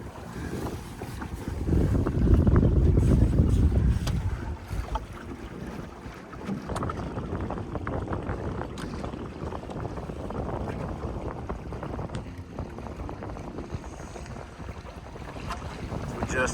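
Wind while microcruising on a small sailboat on Dworshak Reservoir rushes steadily past the microphone, with a loud buffeting gust early on, then continuous hissing wind and water noise.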